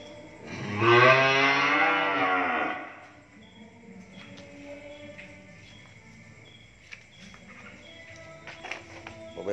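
A large cow lets out one long, loud, drawn-out moo, then the farm goes quieter with soft tapping and shuffling of livestock and faint distant sounds.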